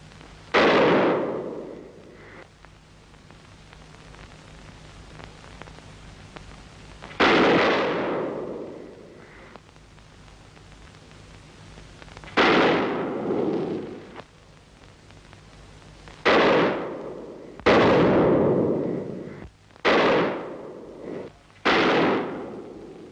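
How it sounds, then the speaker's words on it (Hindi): Gunshots ring out in a 1952 Bollywood crime thriller, with several loud, sharp reports echoing apart at first, then coming in a quicker cluster toward the end. "जॉनी, गोली चलाना बंद कर दो।"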